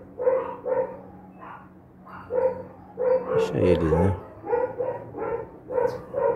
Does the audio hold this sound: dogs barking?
yes